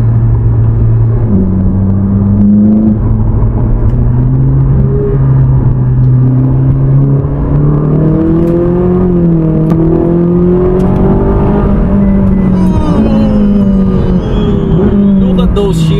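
Ferrari 458 Speciale engine droning loudly through a downshift, its pitch climbing and falling as revs rise, a continuous close in-car roar.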